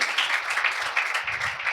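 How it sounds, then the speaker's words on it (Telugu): Applause from a gathered audience at an outdoor gospel ministry meeting in Venkatatippa, a dense steady patter of many hands clapping, fairly close and loud, holding evenly for a couple of seconds with no talk over it. "చప్పట్లు కొడదాం వీళ్ళకి కూడా"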